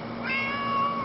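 Cat meowing once in a single short, rising and falling meow, close and clear with no talking over it.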